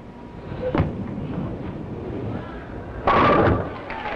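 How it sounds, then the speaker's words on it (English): Bowling ball striking pins at a 1968 professional bowling championship match in an alley, a short sharp crash near the start and a louder, longer clatter of pins later, over crowd murmur. "And it's a double for Don Johnson."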